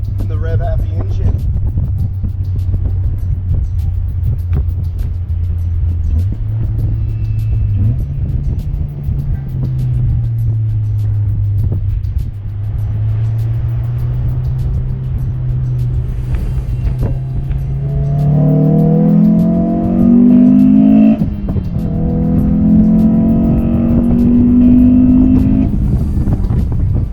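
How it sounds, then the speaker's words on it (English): A Honda S2000 engine revs during a drive, droning steadily at first and then climbing in pitch through hard acceleration and gear changes, loud and close from inside the car, with a voice speaking over part of it. "And the rev happy engine."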